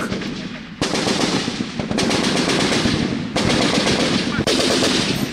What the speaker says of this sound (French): Puis les balles des Kalachnikov claquent.